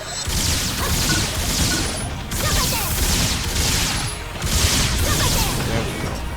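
Shooting at enemies in Phantasy Star Online 2, heard as continuous loud, layered weapon fire and impacts in repeated bursts, with a voice faintly underneath.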